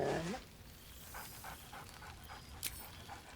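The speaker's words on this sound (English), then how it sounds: "Scratch barks merrily in something like agreement." A dog in the video game Baldur's Gate 3 gives a short burst of merry, panting barks and yips, close and clear, followed by quieter ambient game sound.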